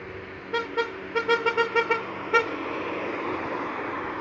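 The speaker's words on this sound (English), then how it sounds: "They got it to honk, yeah." A car horn honks repeatedly on a roadside, seven or eight short toots in an uneven burst followed by one last honk, with steady traffic rumble underneath and then the road noise continuing alone.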